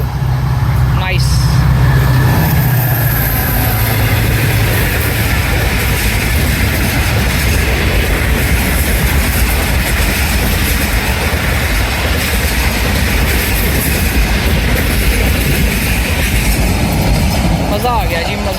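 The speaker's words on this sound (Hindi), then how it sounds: "ये भी एक बहुत बेहतरीन एक्शन हमने देखा रहमान बाबा एक्सप्रेस 48 डाउन का GMU30 लोकोमोटिव के साथ" Rehman Baba Express 48 Down, led by a GMU30 diesel locomotive, rumbles loudly and steadily past a platform at Jungshahi, with a deep continuous roar throughout and voices faintly audible underneath.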